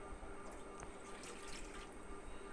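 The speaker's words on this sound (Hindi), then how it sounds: "और इसमें 1 कप चला जाएगा पानी।" Water from a cup poured into a pot holding two cups of oil, flame off, while cooking Balochi tikka karahi; a steady trickling, splashing pour fills the whole stretch with no talk.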